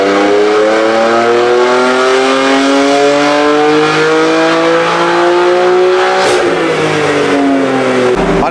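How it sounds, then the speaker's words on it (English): A BMW M4 fitted with a new downpipe revs hard on a dyno indoors, engine pitch rising steadily for about six seconds with turbo whoosh, then dropping off as the throttle lifts; loud and close. "You can hear the turbo spooling up because we've got the downpipes"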